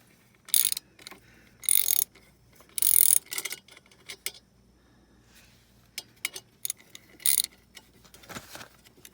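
Loosening a fuel pump part on a 1996 Ford Thunderbird: several bursts of metallic ratcheting and clicking come close by, separated by quieter pauses with light handling noise.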